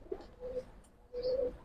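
Giribaz pigeons in a loft give two short, close coos, one brief and a longer second after a pause, with light chirping around them and no speech.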